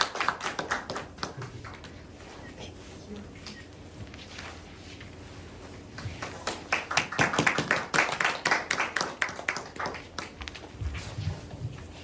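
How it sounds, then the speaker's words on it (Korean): A church youth-service congregation bursts into clapping for a blessing, scattered taps swelling into dense, fairly close applause for several seconds before thinning out. "같이 축복의 박수를 같이 한번 맞이했으면 좋겠습니다"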